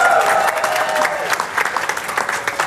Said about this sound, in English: Give her applause to warm up.